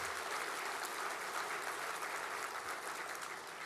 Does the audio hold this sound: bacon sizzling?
no